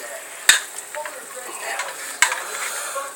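Sauce being stirred into a mussel, crab and tilapia soup on lowered heat, soft scraping and liquid stirring with two sharp utensil clinks against the pot.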